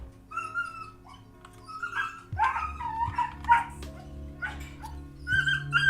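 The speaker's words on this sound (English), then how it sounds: "This dog outside is going crazy." A dog outside barks and yips in quick, irregular bursts with whimpering between them, moderately loud, over a low steady hum.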